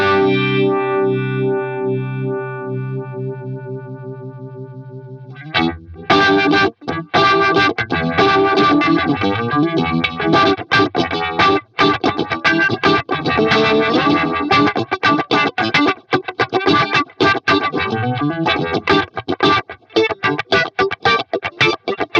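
Electric guitar through the univibe effect of a Nux Cerberus multi-effects pedal: a sustained chord rings alone for about five seconds, then a loud, dense run of choppy picked chords and riffs with a swirling, pulsing modulation that carries on to the end.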